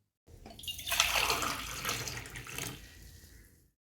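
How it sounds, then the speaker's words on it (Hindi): Freshly boiled water poured into a glass makes a steady splashing stream for about three seconds, close by and moderately loud, tapering off at the end. "लगभग 5 मिनट में पानी भी बॉयल हो जाता है तो मैं इसे निकाल लेता हूँ ग्लास में"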